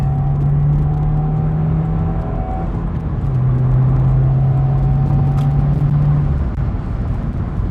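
A 2017 Subaru WRX fitted with an Invidia R400 exhaust and a 2.25-inch downpipe pulls hard on a highway, giving a loud, steady engine drone whose pitch shifts as it accelerates, with no talking.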